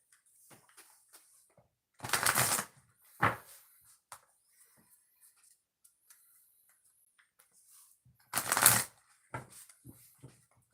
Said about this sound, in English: So let's shuffle the cards